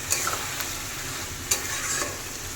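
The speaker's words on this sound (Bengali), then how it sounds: "মাংসটা আজকে খুব সুন্দরভাবে কষি কষি বানাবো।" Bengali mutton being slowly stir-fried (kosha) in a pan, with a steady close sizzle and occasional sharp scrapes and clinks from the spatula.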